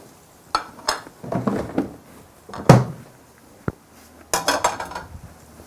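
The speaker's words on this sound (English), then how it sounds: "Just stir it into the masala mixture so that it becomes part of the dish." Pre-cooked okra is stirred into an orange-fleshed sweet potato masala in a pot: a spoon clanks and scrapes against the metal in irregular bursts, with soft thuds between and short pauses.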